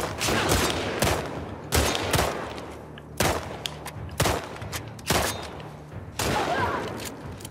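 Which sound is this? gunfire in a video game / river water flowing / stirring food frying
gunfire in a video game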